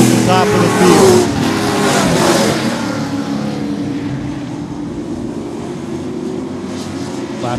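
Late model stock cars racing at Seekonk Speedway, engines droning and revving together at a steady roar, loudest in the first seconds and easing slightly, with a voice talking over the noise.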